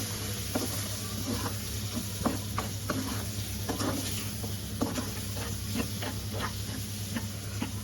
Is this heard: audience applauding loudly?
no